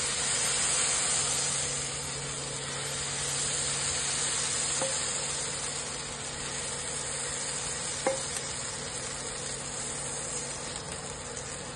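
Fasting dosa batter made from leftover batter sizzles on a hot pan with a steady, close hiss and occasional faint clicks. No one speaks.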